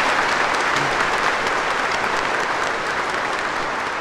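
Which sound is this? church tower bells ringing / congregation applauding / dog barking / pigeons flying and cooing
congregation applauding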